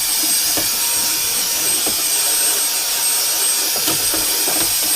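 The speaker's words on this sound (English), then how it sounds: "I'm going to try that vacuum one more time." A vacuum cleaner runs steadily while tidying salt bits from a shoe cabinet, a loud, constant whooshing drone with a few faint knocks and scrapes from the nozzle.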